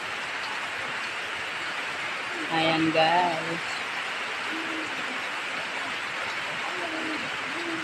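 Rain falls steadily on a mountainside on a cold morning, a constant soft hiss running throughout, with a voice speaking briefly partway through.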